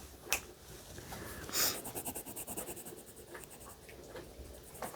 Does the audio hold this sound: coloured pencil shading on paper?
yes